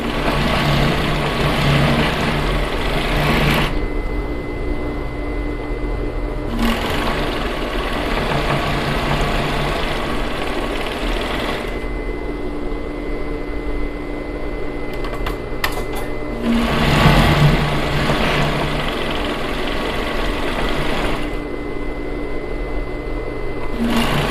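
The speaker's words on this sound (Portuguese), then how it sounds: "Vou passar overlock aqui nesse acabamento." An overlock sewing machine finishes a seam on an American-armhole blouse, running in long, loud, steady buzzing stretches broken by short pauses and a few light clicks.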